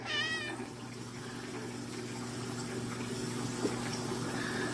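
A short cat meow near the start, then a steady low hum with faint splashing water over the rest of the clip.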